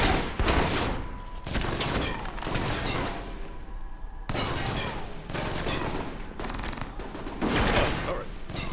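Automated turrets open fire in the video game Alpha Protocol, loud gunfire coming in dense bursts with brief pauses, overlapping shots filling most of the stretch.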